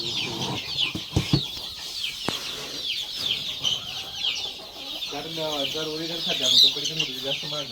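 Several free-range desi chickens on a poultry farm cluck on and off in the open, with a steady high insect-like buzz behind them and a few knocks and thumps.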